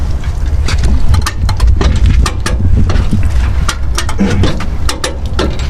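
A tractor engine runs at a steady idle during auto body repair work with a come-along, a continuous low rumble joined by intermittent sharp metallic clicks and ratcheting taps.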